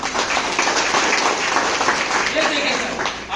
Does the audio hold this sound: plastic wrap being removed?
no